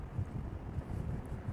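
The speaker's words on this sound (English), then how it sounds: "it's very windy today" Wind buffets a microphone on a breezy day during a bike tour in Amsterdam, a low, steady rumbling gust noise that persists throughout the short stretch with no voices.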